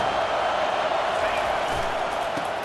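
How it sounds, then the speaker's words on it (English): A football crowd at a scrimmage at USC roars steadily, a dense, continuous wall of cheering and noise that stays loud and unbroken throughout. "Listen to this crowd just shaking the girders of this place, trying to help their defense."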